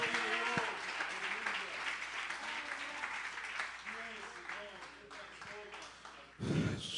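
Sustained applause from a church congregation fills the space, with voices talking over it throughout and a sharper sound at the very end.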